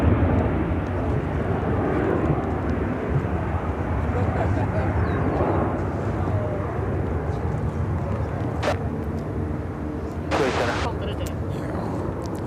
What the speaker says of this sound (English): This is United Airlines 881 taking off to Tokyo Haneda on the 787-10 Dreamliner.